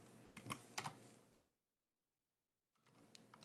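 Keys clatter on a computer keyboard in quick bursts during a Linux command-line lesson, close and quiet, with a silent pause before the typing resumes.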